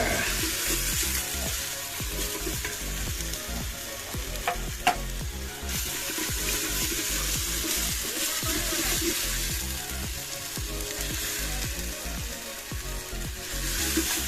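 Onions fry with ginger-garlic paste in oil in a clay pot, a continuous close sizzle with stirring scrapes running through it and no talk over it.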